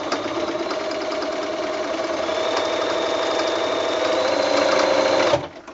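Sewing machine stitching a quarter-inch seam through fabric and batting for a quilted mini mitt, a loud, steady mechanical whir and rapid needle chatter running continuously before stopping abruptly near the end.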